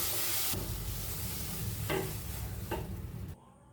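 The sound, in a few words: stirring spiced rice flour mixture for banana flower chop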